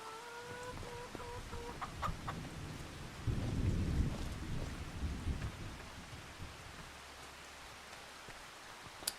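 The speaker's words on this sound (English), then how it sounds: "Thunderstorm sounds pretty gnarly" Thunderstorm in the farming video game Farming Simulator 25: steady rain hiss with a deep, swelling thunder rumble in the middle, plus a rooster crowing faintly at the start.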